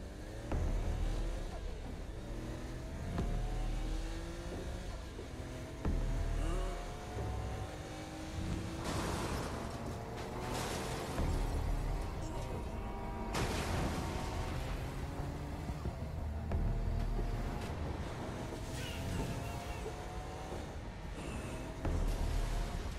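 Car driving in the video game Saints Row: Gat Out Of Hell, a steady engine drone with shifting revving tones and several loud crashing bursts, running continuously throughout.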